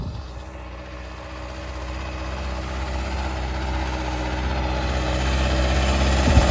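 A 60 hp Arjun 605 Novo or 50 hp Mahindra 585 four-wheel-drive tractor engine runs steadily up close, a loud low diesel rumble with a throbbing beat that slowly builds in intensity, with no talking.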